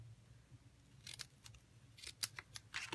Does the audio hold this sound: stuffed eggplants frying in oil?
no